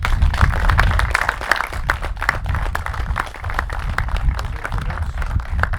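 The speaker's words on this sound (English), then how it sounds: "Just give them a round of applause, yeah?" A round of applause at a carp fishing match prize-giving outdoors, a small group clapping steadily and close by for several seconds.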